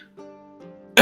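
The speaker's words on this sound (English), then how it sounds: "Awkwardly coughs." A single short, awkward cough from one person, a brief voiced burst that breaks off sharply, heard close and fairly quiet against a still background.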